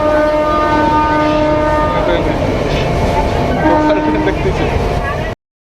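A local train at Manikpara railway station rumbles loudly and steadily, carriages rattling with a sustained horn-like tone running through the noise until it cuts off abruptly.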